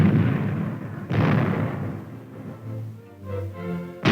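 1950s U.S. Army tank main guns firing armor-piercing tracer rounds, with two heavy booming shots about three seconds apart and a rumbling decay between them, then a third blast at the very end.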